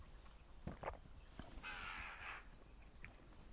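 A single crow caws a few times as it flies past outdoors, rough calls at moderate distance over quiet background noise, no talk.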